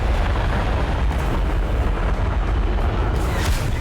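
A missile explosion in War Thunder, a dense, sustained booming roar that stays loud and steady for the whole stretch with no pauses.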